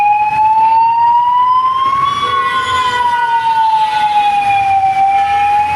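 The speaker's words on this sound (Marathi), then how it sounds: "आता हा ॲम्ब्युलन्स चालला आहे वरती पुढं" An ambulance siren wails through Thane traffic, a loud, continuous rising and falling tone that sweeps slowly up and back down, close by and alone with no talk over it.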